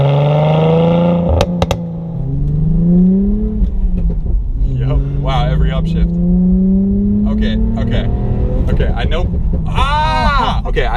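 Tuned manual Mercedes C300 revving and shifting through gears, engine note sweeping up repeatedly, with sharp crackles and pops from the exhaust between pulls, heard from a rear-mounted camera.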